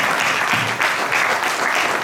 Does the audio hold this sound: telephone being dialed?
no